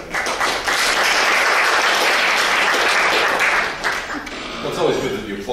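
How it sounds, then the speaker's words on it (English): Loud, close applause from a lecture audience greets a speaker, a full burst of clapping that holds for several seconds and then tapers off with a few scattered claps and murmurs. "it's always good that you applaud at the beginning"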